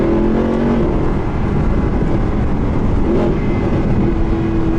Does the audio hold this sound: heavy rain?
no